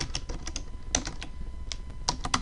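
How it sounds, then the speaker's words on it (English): Quick keystrokes clatter on a computer keyboard while entering a search into a web browser, a close, brisk run of light taps under a low steady room hum. "bring up your internet browser and type in"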